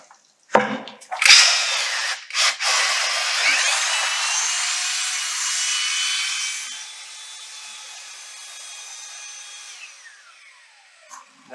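A power drill mixing self-consolidating glass-fiber-reinforced concrete whirs loudly for several seconds, its pitch dropping as it strains through the thick mix, then winds down and stops. No talking.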